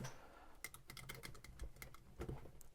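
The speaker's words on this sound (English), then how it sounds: "Use your utility knife and just cut this." A sharp utility knife cuts through an air compressor hose, producing a quick run of faint, close clicking and crunching snips that come in rapid irregular bursts.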